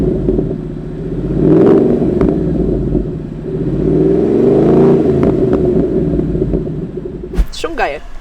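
A US-import Ford Mustang GT V8 with an aftermarket exhaust burbles deeply and rises through two loud revs up close, its exhaust note swelling and falling before a sharp clatter at the end.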